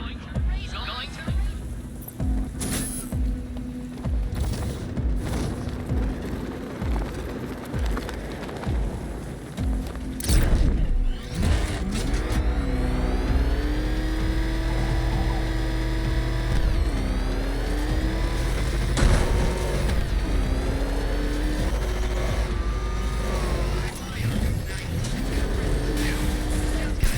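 The Batmobile engine in Batman: Arkham Knight revs and accelerates through a race, a loud, continuous motor whose pitch climbs and falls with gear changes and turns, with character voices talking over it.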